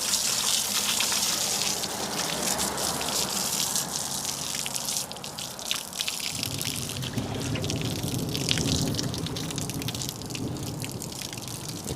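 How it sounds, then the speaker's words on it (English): A water hose rinsing down a boat's trailer tires, engine and power pole components, a steady loud gushing spray that shifts in tone as the stream moves across surfaces, with no talking. "start to just wash down, rinse off the tires underneath as much as I can."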